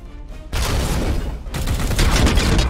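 Gunfire in the video game Warhammer 40,000: Chaos Gate - Daemonhunters, with two loud, dense bursts of shots and booms, the second longer and building, heard alone without talk.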